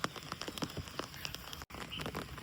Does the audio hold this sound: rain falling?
yes